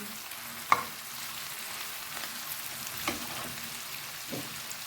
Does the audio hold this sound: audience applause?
no